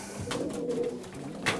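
Young racing pigeons coo softly inside their loft the day before their first race, with several low, rolling coos in quick succession close by.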